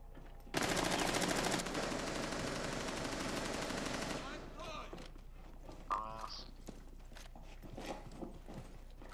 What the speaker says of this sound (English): Buck's shooting out the roof.